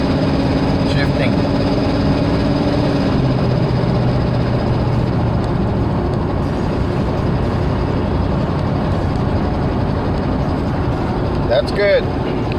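Car engine running while driving, with a slow transmission and loss of power linked to a clogged catalytic converter, a steady low drone with a gear shift partway through and faint clicks near the end.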